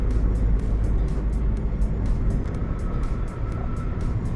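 Car cruising on a highway at 80 to 90 km/h, heard from inside the cabin as a steady low engine and road rumble with wind roar, with faint repeated ticks over the drone.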